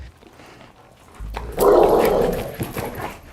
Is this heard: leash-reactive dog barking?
yes